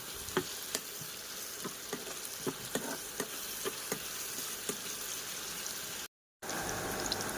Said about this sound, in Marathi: छान लाल होईपर्यंत परतून घेऊया.